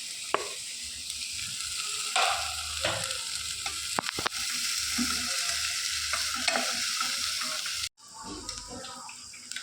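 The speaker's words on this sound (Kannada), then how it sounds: "ಇದಕ್ಕೆ ಸ್ವಲ್ಪ ಬೆಣ್ಣೆ ಹಾಕಿ ಮೊದಲು ಈರುಳ್ಳಿಯನ್ನು ಫ್ರೈ ಮಾಡೋದು." Onions fry in butter in a pan, a steady close sizzle broken by stirring scrapes and clinks, with a brief break near the end, and no voices.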